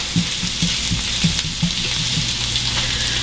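Onions frying over medium heat in an uncovered pan, a bright continuous sizzle with faint low rhythmic tapping underneath, no talking.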